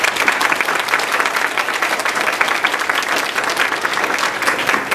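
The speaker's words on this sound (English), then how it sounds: "all of us owe a nice round of applause to Jennifer" A room full of people claps steadily and loudly for several seconds after a Bible school play, a dense, even round of applause with no pauses.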